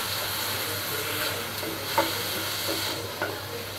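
Onion, tomato and green chilli sautéing in a pan for egg masala, a continuous close sizzle with a few soft spatula scrapes and taps, no talking.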